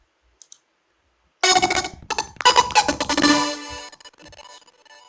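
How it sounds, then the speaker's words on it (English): A progressive house track enters abruptly after near silence, its chords and synths slowing and bending downward in pitch with a tape-stop effect, choppy loud bursts fading out toward the end. "the trick that I've used here is the DW tape stop and pitch down effect"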